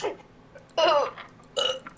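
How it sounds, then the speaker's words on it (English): A person burps twice, a longer croaky belch followed by a shorter one, close and fairly loud over quiet background. "I accidentally burped."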